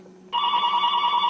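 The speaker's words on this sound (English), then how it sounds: "my phone is ringing" Mobile phone begins ringing abruptly with a steady, shrill electronic tone that holds constant, close and clear with no talk over it.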